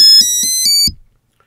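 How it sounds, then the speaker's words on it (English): A Hobbywing Skywalker ESC confirms programming mode with a quick series of four bright electronic beeps in a steady rhythm, close and clean, then silence. "The first confirms that the ESC is in programming"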